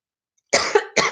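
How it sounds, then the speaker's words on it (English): Two sharp coughs in quick succession, close and fairly loud, with a brief rasp between them. "I'm so sorry I keep coughing."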